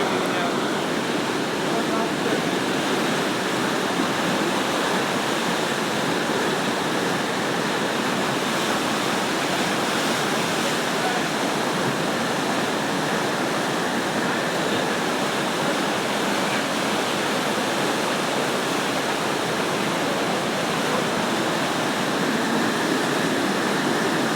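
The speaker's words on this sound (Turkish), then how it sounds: "Antalya'da Düden Şelalesi." Düden Waterfall in Antalya pours in a steady, dense roar of rushing water, loud and continuous throughout with no break or voices.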